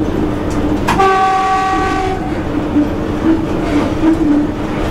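An EP1 electric locomotive train running at about 71 km/h rumbles steadily and close, with a brief loud horn blast near the start sounding over the continuous running noise.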